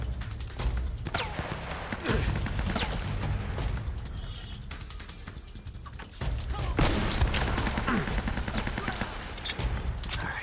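Gunfire and a grenade explosion in the video game Uncharted: Drake's Fortune, with bursts of shots and crashing impacts running continuously and loudly, swelling into a heavier blast partway through, and no talk over it.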